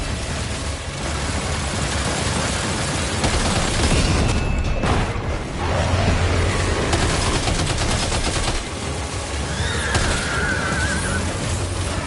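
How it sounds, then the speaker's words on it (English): Sustained automatic gunfire in Death Stranding 2, loud and continuous with dense rapid bursts and heavy low rumble, running without a break for the whole stretch. "Opening fire now."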